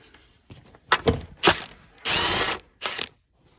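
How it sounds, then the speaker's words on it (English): Ratchet wrench loosening a ground bolt in a 2015 Hyundai Elantra, giving a few sharp separate clicks and then two short bursts of rapid ratcheting, close and clear with brief pauses between. "I'm gonna just unbolt it right there"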